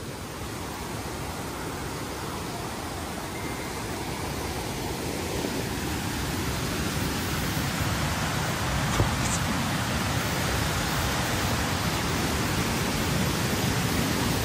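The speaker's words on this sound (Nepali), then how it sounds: "खोलाको साउन्ड" A flowing mountain stream gives a continuous, even rushing hiss that stays fairly close and steady throughout, gradually growing slightly louder, with no voices over it.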